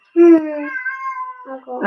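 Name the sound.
cat meowing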